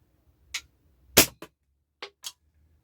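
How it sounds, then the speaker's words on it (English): A Hatsan 60s break barrel air rifle fires indoors at a cardboard box stuffed with padded envelopes, giving one dull, loud thump among a few sharper clicks and handling knocks, with quiet gaps between them and no voices. "it's just a nice thump, which is the kind of noise you want to hear from your air rifle"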